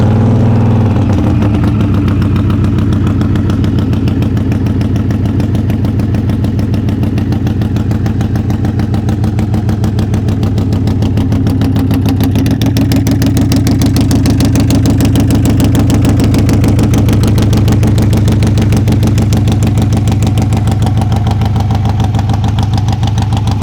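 A Harley-Davidson Sportster 883 Iron (XL883N) bobber-style motorcycle idles steadily up close, its loud, lumpy V-twin pulse running continuously without any change in pace or any talk.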